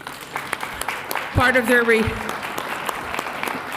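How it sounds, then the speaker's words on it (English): A short burst of applause breaks out at a city council meeting as a visiting leadership class is recognized, rising briefly amid a room murmur, with speech just before and after. "Let's give you a round of applause."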